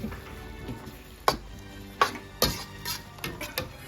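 Cantonese tomato and egg stir-fry being worked in a pan, with a soft sizzle beneath several sharp scrapes and clacks of a utensil against the pan, close and fairly quiet, with no talk over it.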